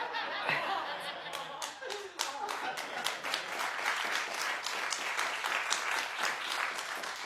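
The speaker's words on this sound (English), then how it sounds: "They're clapping for my teeth." A television talk show studio audience claps and laughs, rapid bursts of many hands with chuckles and brief voices mixed in, lively and close throughout.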